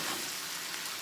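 Beef strips with a caramelized teriyaki glaze sizzle and fry in a stir-fry pan, a steady hissing crackle throughout the short moment, fairly loud and close, with no voices.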